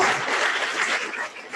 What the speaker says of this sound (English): can we give Lech the biggest round of applause?